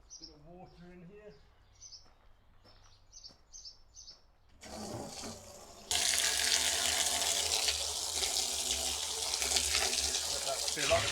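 Water from an off-grid homestead water system gushes steadily and loudly into a barrel after a quieter start with faint bird chirps and brief rustling.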